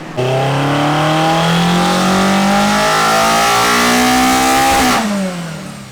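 A modified Toyota AE86 engine on a dyno pull, revving loud and close in one continuous rising sweep for about five seconds, then cutting off abruptly and winding down.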